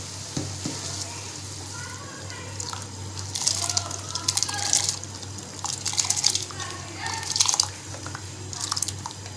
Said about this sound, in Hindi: तो ये देखें, ये पानी उबल रहा है हमारा।